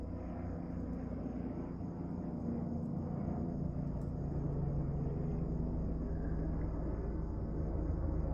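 A helicopter flies overhead near a camper at a family home, giving a steady low rotor and engine rumble that builds slightly and holds for several seconds with no talking.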